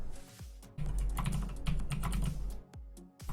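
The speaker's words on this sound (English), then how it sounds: "Cause I'm too lazy to type it again." Typing on a computer keyboard while working through an Advent of Code Day 14 programming puzzle, a steady run of close, fairly loud key clicks with brief pauses, no talking.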